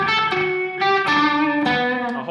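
An electric guitar played through an Eventide H9 pedal with reverb and distortion rings out in sustained, thick chords that shift pitch a few times and wash into one another.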